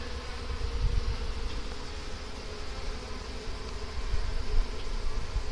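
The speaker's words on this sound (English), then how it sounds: "See a bunch of bees that were not accepted very well." Honeybees swarm around a hive where robbing is going on, producing a continuous, fairly soft buzzing drone with slight swells in loudness, close by and without any talking.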